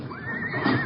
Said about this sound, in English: Walker was watering a couple of horses in a corral at the rear.